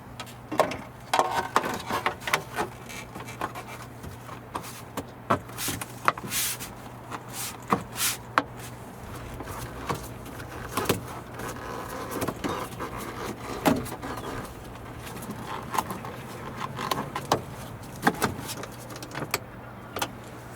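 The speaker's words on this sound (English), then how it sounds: "Now we can install this panel." A rear trim panel being fitted inside a Volvo XC40: scattered plastic clicks, taps and rustling handling noises, close and fairly quiet over a steady low hum, with no talking.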